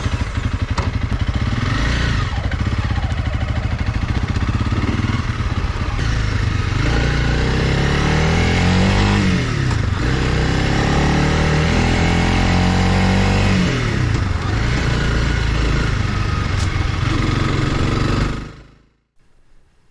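A Honda CRF 300 Rally motorcycle rides along rural roads with a continuous loud engine drone and wind rush close to the mic, rising and falling through gear changes, before cutting out abruptly at the end.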